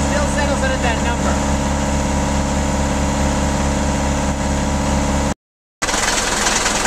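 A car engine holds a steady fast idle near 2,500 RPM during a vacuum check, a constant loud drone with a brief cut near the end.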